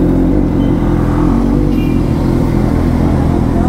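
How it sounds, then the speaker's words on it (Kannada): A Triumph Scrambler 400X motorcycle engine revving hard and close, a loud continuous roar with rough crackling exhaust texture throughout. "ಚಟಪಟ ಚಟಪಟ ಅದೇ ಥರ ನಮ್ಮ ಗಾಡಿ, ಚಟಪಟ ಚಟಪಟ ಅಂತ ಇರುತ್ತೆ"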